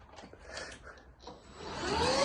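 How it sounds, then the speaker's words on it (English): A vacuum cleaner hoovers a cabin close by, with bumps and rubbing at first, then a rising, steadily louder motor whine building toward the end. "So now I have the enviable task of hoovering the cabin."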